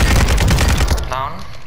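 Rapid bursts of automatic gunfire from a Kastov 762 rifle in the video game Warzone, loud and dense for about a second, then giving way to quieter game sounds.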